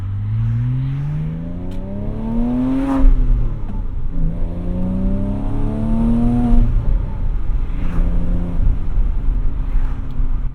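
A Porsche Cayman S sports car on the move gives off an exhaust note that climbs through the revs, eases at a shift, then climbs again; loud, close and unbroken, with no voices.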